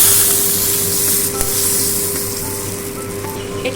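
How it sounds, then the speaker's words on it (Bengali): Water poured into hot spiced oil in a pan with green chilli, turmeric and mustard paste, a loud close hiss that bursts up at once and then slowly fades over several seconds, with no voices. "একটু জল দিয়ে দেবো।"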